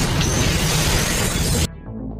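A grenade blast in an action film: a loud, roaring, shattering burst of noise fills the scene for about a second and a half, then cuts off abruptly to a low rumble.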